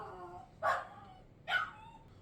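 Puppies whine and yip twice, two separate high, faint cries from another room with a pause between them.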